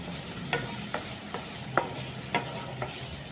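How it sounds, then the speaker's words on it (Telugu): Curry leaves frying in a pan of oil for a Goan prawn curry, a soft steady sizzle close by with several light scraping stirs at irregular intervals. "తర్వాత కరివేపాకు వేసేసి"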